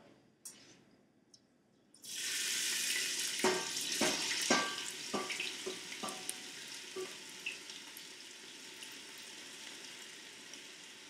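Sofrito of vegetables with basil and garlic hits hot extra virgin olive oil for a Bolognese sauce and bursts into loud, steady sizzling after a quiet start, with a few sharp spoon knocks as it is stirred.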